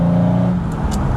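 A 1960 Jaguar XK150 3.8 S fixed-head coupe drives along a dual carriageway past a van, its engine droning steadily and loudly with a faint hiss of passing air and no talking.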